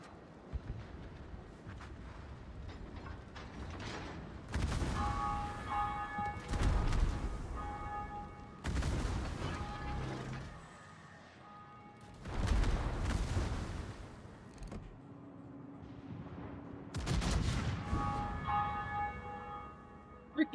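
Loud, clanging bells ring in the naval video game World of Warships, coming in repeated rich metallic bursts over several seconds amid game rumble and booming impacts, alternating with quieter stretches.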